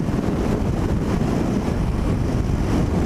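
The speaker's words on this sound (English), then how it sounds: "But I can guarantee you that there is a shit ton of wind." Strong wind buffets the microphone while riding a Harley-Davidson Street Bob on the road, a loud, dense, continuous roar with no voices.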